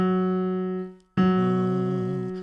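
A single piano note rings out, its sustained tone decaying gently before a second strike renews it, close and clear with no voices.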